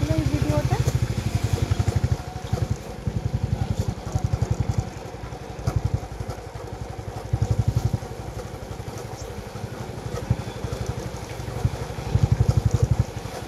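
Father's light motorcycle being ridden, engine thrumming steadily with a rapid pulsing beat and wind buffeting the microphone throughout, loud and close.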